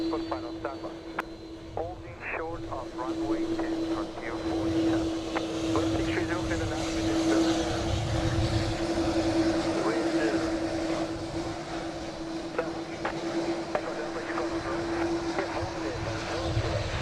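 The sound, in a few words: Airbus A330-200 airliner passing at SxM airport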